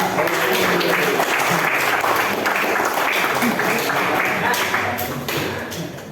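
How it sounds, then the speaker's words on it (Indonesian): A classroom of students claps loudly for a group presentation, dense sustained applause that holds steady and then tapers off toward the end. "tepuk tangan untuk kita semuanya dan kelompok 2"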